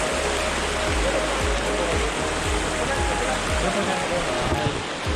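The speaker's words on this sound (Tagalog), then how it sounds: "Lakas ang current ng tubig." A strong water current rushes at the Talon ni Eva waterfall in Bulacan, a loud, steady roar of falling and flowing water close by, with low thumping handling bumps underneath.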